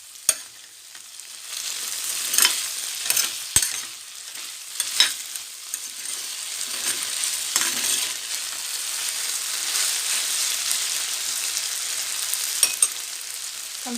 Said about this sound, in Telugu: అగైన్ 2 minutes తర్వాత మళ్ళీ కలుపుకోండి చక్కగా.